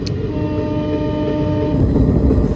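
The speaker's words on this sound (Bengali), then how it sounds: "2 নম্বর প্ল্যাটফর্মে ট্রেন ঢুকেছে।" The 13020 Bagh Express pulling into a station platform, a loud continuous rumble of rolling wagons with a sustained horn tone ringing over it, close by.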